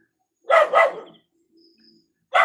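A dog at home gives two quick, loud barks close by, falls silent briefly with a faint sound in the background, then starts barking again.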